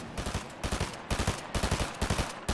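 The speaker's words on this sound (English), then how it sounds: "Tayson using the SMG at this range" SMG gunfire in a battle royale video game, rapid bursts of automatic shots in several quick strings with short pauses, loud and close, no speech.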